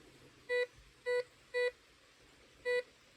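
A Ricomax metal detector sweeps over coins and gives four short, clear electronic beeps at uneven intervals against a quiet background.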